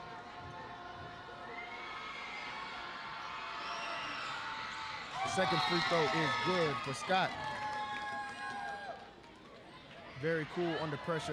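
A high school basketball crowd in the Waco High gymnasium roars and shouts loudly, surging in waves after a made free throw, while a commentator talks over the noise.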